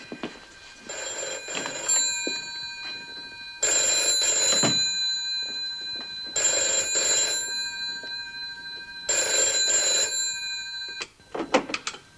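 An old telephone bell rings in four long bursts with short pauses between them, loud and close in a quiet room, followed by a few brief clicks at the end.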